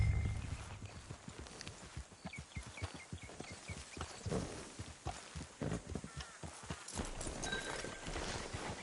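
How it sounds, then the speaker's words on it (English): Horse hooves clip-clop steadily at a walk in Red Dead Redemption 2, a continuous near rhythm of hoof beats with faint ambient game sounds and no speech. "Hit your horse."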